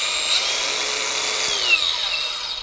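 A Metabo HPT 36V MultiVolt 4-1/2-inch variable-speed angle grinder runs under load, its high steady whine shifting pitch as the disc bites and the motor holds speed, loud and continuous with no talk.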